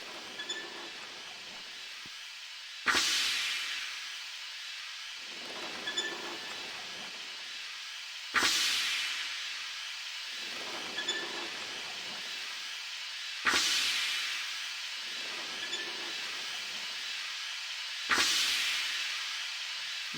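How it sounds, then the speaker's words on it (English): Machinery in Myst III: Exile releases steam in four loud, sudden hissing bursts, each fading over several seconds before the next, with quiet mechanical ticks in the gaps. "we're letting off too much steam"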